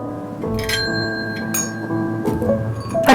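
A cat rings a small bell on its own, giving a few bright metallic dings that ring on with a shimmering decay, close and fairly loud, with no talking.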